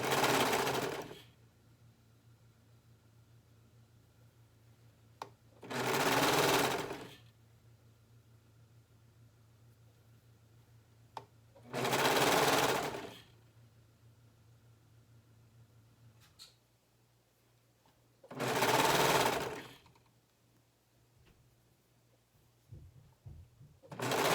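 A sewing machine stitching a neckband onto a ladies' or kids' garment, running in three separate bursts of a few seconds each with quiet pauses between, close and clear with a faint steady hum underneath.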